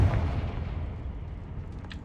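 Confringo fire blast spell from a Harry Potter video game, a single low booming burst at the start that decays into a rumbling tail.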